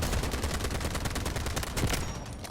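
Sustained automatic fire from a SCAR-H rifle in the mobile shooter Delta Force Mobile, a dense rapid stream of loud close shots with no break, trailing off slightly at the end.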